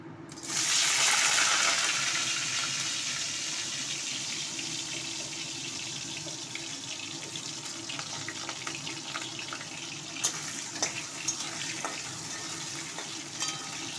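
Potatoes frying in a pan with spices, a bright, continuous sizzling hiss that flares loudly as they go in and then settles to a steady crackle, with occasional sharp pops and spatters.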